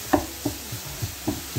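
A knife chops pork for Filipino lumpia, giving about six sharp, moderately loud hits in an uneven rhythm with short quiet gaps between them.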